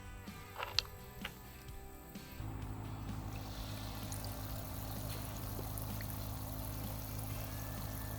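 Water pours steadily into a cooler rigged as a fishing live well, a continuous splashing stream that starts after a couple of seconds of quieter bubbling and runs close and constant to the end.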